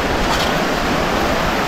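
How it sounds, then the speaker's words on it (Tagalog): Strong ocean waves crash and surge in a loud, continuous roar of dense surf noise that fills the whole moment, with no voices. "lakas ng alon"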